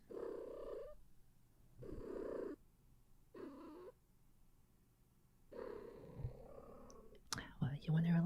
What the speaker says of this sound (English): What you meowing for?